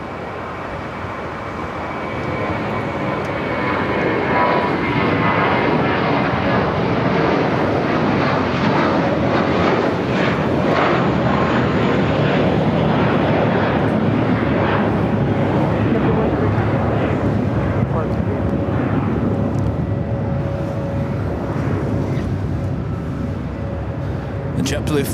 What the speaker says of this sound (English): JetBlue flight heading to Fort Lauderdale, flight 100 at A321